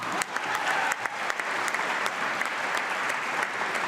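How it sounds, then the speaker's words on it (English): Audience applause fills a joint legislative session of the state House and Senate, dense sustained clapping from a large crowd at steady loudness for the whole stretch, with no speech over it. "I'm clapping on that one"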